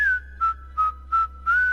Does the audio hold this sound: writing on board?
no